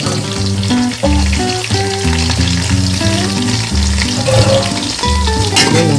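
Onion and green chili pieces fry in hot oil for a Konaseema-style crab curry, a loud, steady sizzle that runs throughout under prominent instrumental music with sustained tones.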